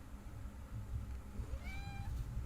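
A cat gives one short, rising meow near the end, heard clearly over a low background hum and rumble.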